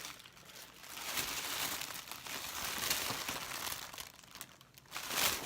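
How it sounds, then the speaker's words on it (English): Tissue paper rustles and crinkles continuously while a Jeffree Star package is unpacked, the crackling close and fairly busy, swelling in bursts. "Tissue paper."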